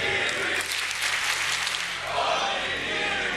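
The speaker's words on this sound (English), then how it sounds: "The crowd cheering on Onigiri" An esports arena crowd at a Rainbow Six match applauding and cheering, a dense continuous wash of clapping and roaring filling the space, loud and sustained with a steady low hum beneath.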